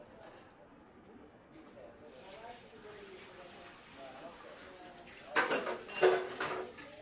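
Steel pots and utensils clink and clatter together in a kitchen while being washed, with scattered sharp knocks growing busier toward the end. Someone talks quietly in the background.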